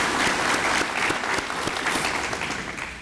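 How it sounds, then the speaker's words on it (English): Steady, close applause from an audience at a senior town hall meeting, dense clapping that holds strong and then slowly thins toward the end. "Let's give her another round of applause"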